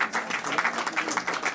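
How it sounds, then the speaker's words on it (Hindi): A crowd claps to welcome guests at a school cluster centre's farewell ceremony for a retiring official, a short burst of steady, fairly close applause. "जोरदार तालियों स्वागत करेंगे"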